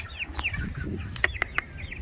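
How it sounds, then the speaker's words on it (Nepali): Chicks about 18 to 19 days old chirp and peep in quick, high bursts, several sharp calls close by over a low background murmur. "सानो सानो चल्ला छ"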